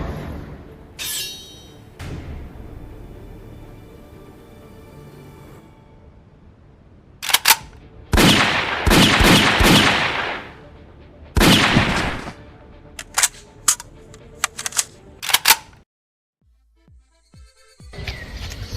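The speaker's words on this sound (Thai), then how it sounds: "มึงยิงกูทำไมเนี่ย" Sharp gunshot effects crack in rapid bursts during a comedic stage play about a game, loud and close, some in quick volleys, with quieter stretches of stage noise before and a short silence near the end.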